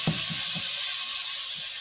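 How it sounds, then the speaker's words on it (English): Bacon dropped into a very hot pot while making a bacon cheddar cheese soup gives a steady, close frying sizzle and hiss, with a few soft stirring bumps near the start. "Wow, that was a good sizzle."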